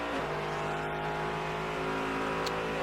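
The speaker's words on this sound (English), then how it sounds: "Brian Frizzell is really showing what this Office Depot Dallara with Ford power can do." A Ford-powered Dallara race car engine roars steadily at high revs, loud and close, with a constant droning tone throughout, at the 2011 Grand-Am Grand Prix of Miami.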